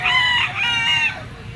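A pumpkin blues yellow-legged bull stag rooster lets out a single close, loud crow of about a second in a few harsh rising-and-falling segments, then falls quiet.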